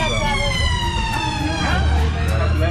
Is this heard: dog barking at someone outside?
no